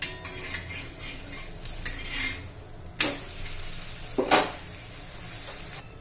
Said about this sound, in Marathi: आपला पराठा भाजून झालेला आहे